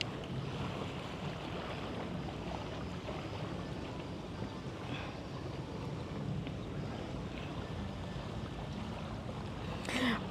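Ocean waves roll onto a black sand beach facing Samal Island near Davao City, a steady wash of surf mixed with wind noise across the microphone, with no voices heard.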